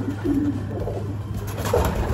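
A blue bar racing pigeon coos softly and low in a loft, giving a couple of short murmured calls against quiet background hum.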